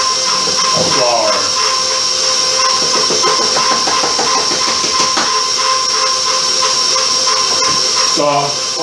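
An electric stand mixer kneading bread dough for caramel rolls, its motor giving a loud, steady whirring hum with a constant high whine and rhythmic churning, close up, with a few brief thumps near the end.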